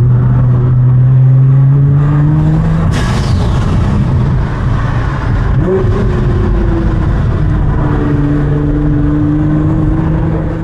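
Stage 5 Nissan R35 GTR tuned to 840bhp, engine revving hard: a loud, close engine that climbs in pitch, cuts off with a sharp burst, then settles into a throbbing idle before another rising rev.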